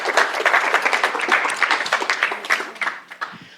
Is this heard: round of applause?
yes